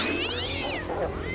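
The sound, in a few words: kitten meowing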